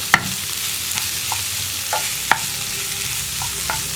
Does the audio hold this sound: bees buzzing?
no